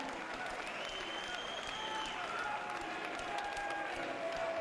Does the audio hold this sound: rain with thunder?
no